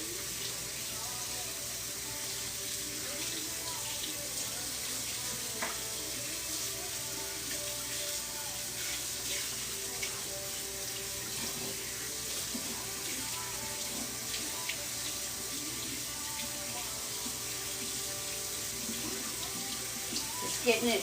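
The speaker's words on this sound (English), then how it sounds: "So just kind of pass the shirt under the water to rinse it" A tie-dye shirt is rinsed under a running tap, with a steady, even rush of water splashing into a sink and faint shifting as the fabric passes through the stream.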